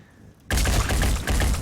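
Heavy cannon fire from a soldier in the video game Phoenix Point, erupting suddenly after a quiet moment into a loud, dense, rapid burst of booming shots that continues to the end.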